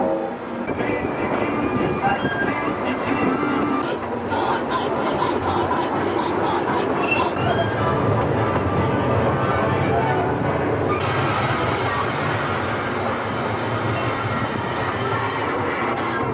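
A theme park ride train at a Disney park rumbles and clatters steadily along its track, wheels squealing, with a loud continuous roar and voices faintly mixed in.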